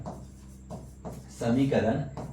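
A teacher writes an equation for a trigonometry lesson with soft scratchy strokes in short bursts. A voice talks over the writing throughout.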